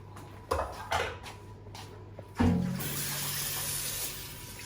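A bowl is rinsed under a running kitchen tap while making pumpkin risotto: a few knocks of the bowl, then a loud steady rush of water splashing into it.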